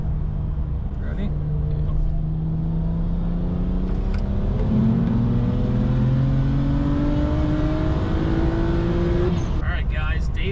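A single-turbo BMW 135i with the N54 engine accelerates hard in third gear, its engine note rising steadily and loudly for about ten seconds before easing off, heard from inside the car with some speech at the end.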